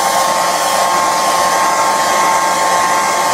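A hair dryer blows steadily and close by over an acrylic ink painting of teasels and honesty, a constant loud whooshing hum with a faint whine, running alone without pause.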